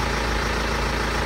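A BMW diesel engine, from the N47, N57 or B-series family, idles while it warms up after its intake manifold was cleaned of soot. It gives a steady, close, continuous rumble with an even, slightly rough texture and no talking.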